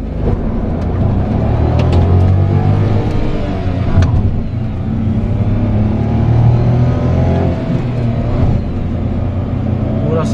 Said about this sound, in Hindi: तो फर्स्ट गियर में डाल दिया हूँ, एसी बंद है, तो चलिए देखते हैं।